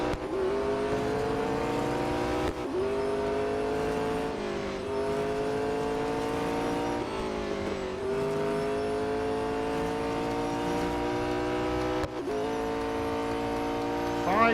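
Race car engines in the Real Racing 3 mobile racing game drone loudly and continuously, pitch climbing through each gear and dropping sharply at every shift, with faint tire squeal in the mix.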